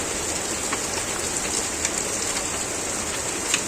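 Hail mixed with rain falling in cold weather at Phulbari, Dinajpur, North Bengal, a steady dense hiss of pattering stones and drops with occasional sharper nearby impacts, with no voices.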